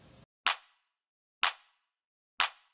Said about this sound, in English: Then we've got our second clap,